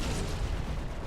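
Ship guns on an Origin 325a in Star Citizen combat, a dense rumbling burst of firing, loud and continuous over about a second with no talk.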